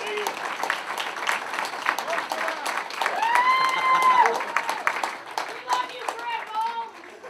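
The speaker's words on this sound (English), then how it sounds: "One more round of applause, come on." An audience at an award presentation claps in a lively round of applause, with cheers and whoops rising over the clapping and voices calling out through it.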